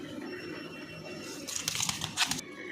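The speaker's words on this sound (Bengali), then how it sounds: "অনেকক্ষণ ব্যাগে রাখা ছিল তাই প্রচুর হাঁপাচ্ছে পায়রাটা" A pigeon, breathless after a long time shut in a bag, makes faint soft breathy sounds, then a brief flurry of rustling and light flapping close by.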